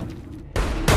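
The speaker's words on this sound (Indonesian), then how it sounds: "ternyata ada sniper di tempat tersebut" A sniper's gunshot rings out in a scene from The Last of Us series, a sudden loud blast followed by a second heavy report within a second, with no talk over it.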